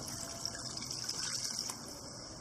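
Water running steadily into a cooking pan while making ramen noodles, a continuous gushing pour with a bright, hissing splash, close up and alone, with no talking.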